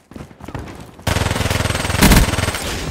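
Rapid fire from the Vesper submachine gun in Call of Duty Black Ops 3: a short, lighter burst first, then a loud, fast, unbroken stream of shots at a very high rate.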